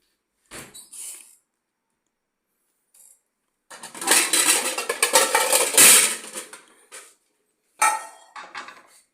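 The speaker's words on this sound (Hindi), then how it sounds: "अब हम चलते हैं और अब हम निकालते हैं फ्राई पैन।" A frying pan is pulled out in a home kitchen, with loud metallic clattering and knocking of cookware in several bursts, a long rattling stretch in the middle and short clanks before and after, separated by silence.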